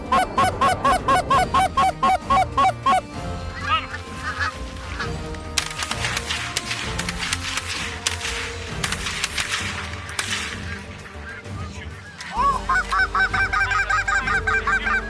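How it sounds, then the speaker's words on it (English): A flock of geese honks in rapid, repeated calls during a goose hunt, loud and close at first, then a stretch of mixed field noise and sharp bursts before the honking returns strongly near the end. "Off in the distance, coming hard, was a single goose."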